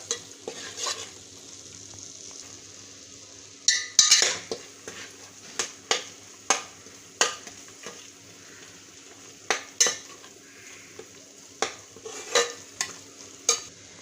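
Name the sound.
sautéing spices for katachi amti in a pan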